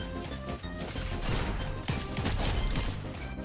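Rapid, sustained gunfire from a Fortnite match, dense overlapping shots and impacts rattling continuously at close range with no pauses.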